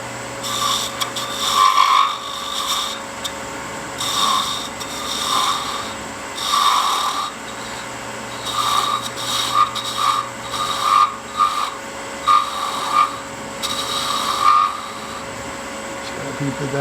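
A hollowed wooden Christmas ornament with a finial spinning on a lathe while light cuts are taken, giving a steady motor hum with intermittent scraping and chattering tool contact in short repeated bursts.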